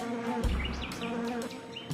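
Hive bees buzzing in a dense, continuous drone, with brief louder passes of individual insects flying near, moderately quiet and free of speech.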